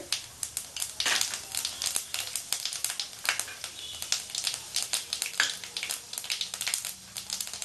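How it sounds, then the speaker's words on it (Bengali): Panch phoron spice mix crackling and sizzling in hot mustard oil in a pan for a Bengali cabbage fry, a steady close crackle with many small pops spread across the whole stretch. "পাঁচ ফোড়নটা দিয়ে দিলাম তেল গরম হয়ে গেছে"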